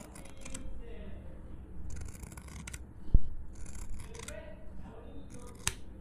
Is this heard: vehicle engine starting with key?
no